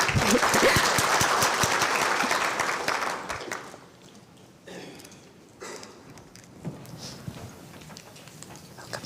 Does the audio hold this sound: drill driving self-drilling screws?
no